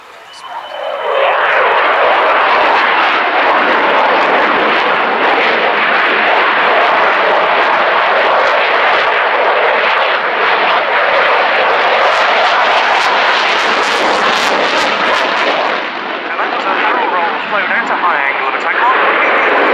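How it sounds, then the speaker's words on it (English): A Swiss F-18 Hornet jet flies past at low level at the 2018 Royal International Air Tattoo at Fairford, its loud engine roar sustained and swelling across the whole stretch while a commentator talks over it. "So coming in from the left, the Swiss F-18 Hornet."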